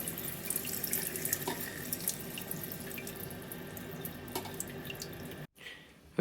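Tap opened on a toilet cistern inlet setup, a steady close hiss of running water with small clicks, cutting off abruptly near the end before a brief quieter tail.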